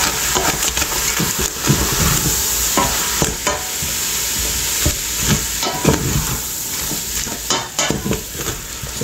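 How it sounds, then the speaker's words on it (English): Ground beef fries and is stirred in a pan for a Wendy's-style copycat chili, giving a loud, steady sizzle with repeated scraping and stirring strokes throughout and no talking. "We're going to start to stir this ground beef."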